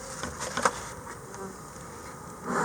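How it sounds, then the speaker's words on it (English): Honeybees buzz steadily during a hive transfer, a continuous insect hum with a few louder swells early on as the colony is scooped into the box. "See, there's the bees."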